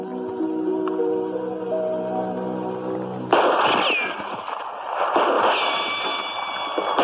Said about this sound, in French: Des coups de feu, je les ai entendus.